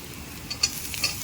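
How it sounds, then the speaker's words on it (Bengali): A utensil stirs chopped ginger in a hot pan while fish cooks, a faint steady sizzle with a few soft scraping ticks close by. "এবার আদা কিছুটা কুচিয়ে নিয়েছিলাম, সেই আদাটাও দিয়ে দেবো, দিয়ে নাড়তে থাকবো"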